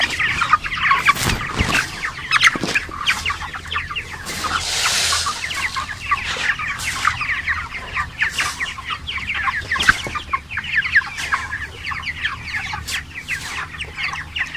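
A crowd of laying hens clucking and squawking nonstop in a poultry shed, many birds calling over one another close by, with sharp louder cries now and then and no talk.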